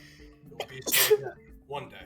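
A single sharp sneeze bursts out, close and loud, in the middle of a tabletop roleplaying session, with people talking just before and after.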